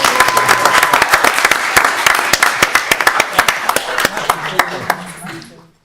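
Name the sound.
audience applauding and cheering participants at town council meeting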